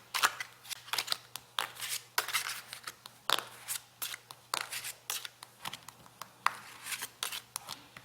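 Tarot cards being shuffled by hand, a close, steady run of crisp papery riffles and snaps repeating quickly over several seconds, heard alone without talking.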